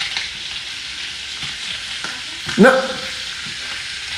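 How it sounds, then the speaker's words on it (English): Cheddar cheese sizzles steadily in a frying pan, a constant hiss of frying throughout, with a single short word spoken near the end. "cheddar cheese in a frying pan."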